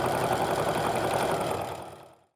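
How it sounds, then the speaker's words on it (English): A sewing machine stitches a seam on a fabric nesting bag, a steady close mechanical whir at even speed that slows and fades to silence at the end. "we're going to stitch down one more time here"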